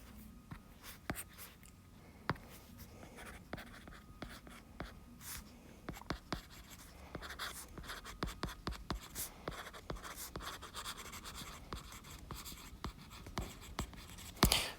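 Pen strokes scratch steadily across paper while working a math homework problem on graphing, a quiet, close run of short scribbles and taps lasting throughout with no talking.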